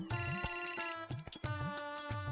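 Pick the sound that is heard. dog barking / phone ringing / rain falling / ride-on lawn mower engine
phone ringing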